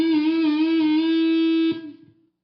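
An electric guitar played through a fuzz tone pedal holds one thick, buzzing sustained note for nearly two seconds, then is choked off and fades quickly, heard alone.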